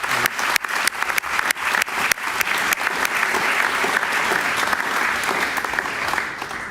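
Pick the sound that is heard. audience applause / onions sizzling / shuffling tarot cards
audience applause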